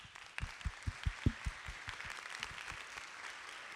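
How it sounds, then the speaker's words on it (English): A small audience at a high school college information night claps for a few seconds, a thin scattering of hands that starts crisp and gradually fades out. "So we could kindly give them a round of applause."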